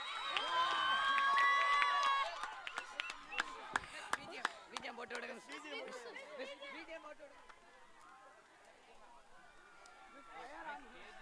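A crowd of children at a school sports meet shouts and cheers for a teacher, a loud burst at first that settles into busy chatter, with a voice speaking over it.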